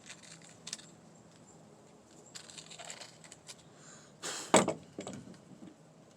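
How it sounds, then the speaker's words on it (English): A Ford F-150 universal joint turned back and forth by hand, giving a few sparse close metallic clicks and scrapes with one sharper clank near the end, alone against a quiet background. "Sounds good when I spin it back and forth."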